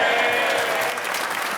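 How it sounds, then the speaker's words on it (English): Members of Parliament applaud Theresa May as she leaves Prime Minister's Questions in the Commons, a thick, sustained wash of clapping that stays loud and slightly eases toward the end. "Applauded on her way out by the party who deserted her when she needed them"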